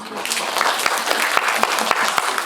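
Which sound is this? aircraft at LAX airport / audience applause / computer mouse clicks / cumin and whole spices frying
audience applause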